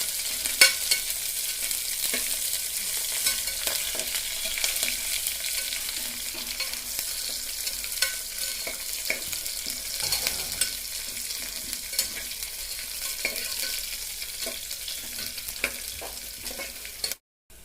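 Onion, curry leaves, ginger, green chili and cashews sizzle steadily in a pan while being stirred. The frying hiss is soft and continuous, broken by frequent scraping clicks from the stirring, and no one speaks.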